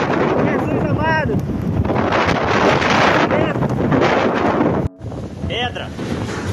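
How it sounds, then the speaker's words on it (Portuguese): Strong gusting wind roars across the microphone during a sandstorm in Brazil, a loud continuous buffeting that cuts out briefly near the end, with a couple of faint voices calling out over it. "O vento é muito forte, meu Deus do céu."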